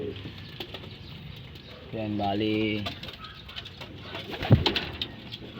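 Racing pigeons in a loft give a short burst of low, layered cooing, close and fairly loud, amid faint rustling, with someone speaking briefly and a sharp knock near the end.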